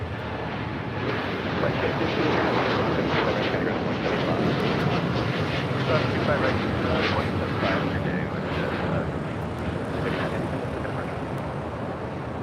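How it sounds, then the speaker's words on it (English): United Airlines Boeing 787-10 Dreamliner taking off from LAX, a loud, steady broadband jet roar that holds throughout with wind-like rush and no pauses. "This is United Airlines Flight 39 taking off to Tokyo Haneda on a 787-10 Dreamliner."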